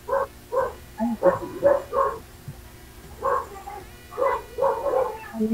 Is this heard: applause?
no